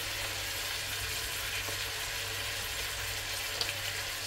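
Pork cheeks frying in a pan with softened onion, giving a steady, even sizzle that holds at moderate loudness throughout with no talking.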